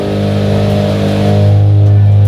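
A Mazda RX7's rotary engine roars through a loud cold start, a rough, buzzing idle that swells into a stronger, steady drone after a moment, close and with no other sound over it.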